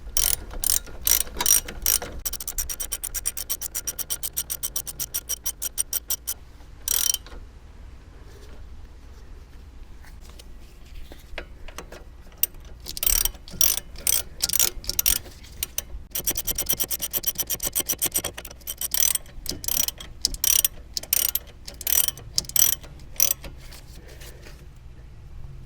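A ratchet on an extension clicks rapidly while working on a car's front suspension, coming in repeated bursts of fast, crisp ticking separated by quiet pauses, close and clear with no talk.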